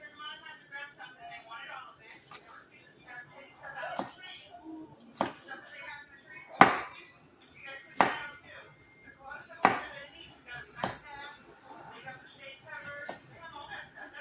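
A knife chops and slices cucumbers on a cutting board, giving a series of sharp, separate knocks at an uneven pace, close and fairly quiet, under a person talking.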